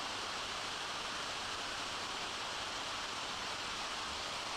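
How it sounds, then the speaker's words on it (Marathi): Someshwar waterfall in Nashik, swollen by monsoon rain, roars continuously, a dense, steady rush of falling water with no pauses or other sounds. "या धबधब्याचं रौद्र रूप बघायला मिळतंय"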